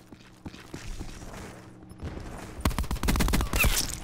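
Rapid automatic fire from the TITAN gun in Black Ops 4, a faint spaced series of shots that swells into a loud, dense burst of gunfire near the end.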